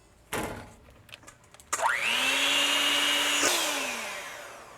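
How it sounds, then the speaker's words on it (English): An electric mixer whirring through egg whites starts up with a sharp rise and holds a steady, loud whine for a few seconds, preceded by a few clicks and knocks. "we're going to beat it up into stiff peaks"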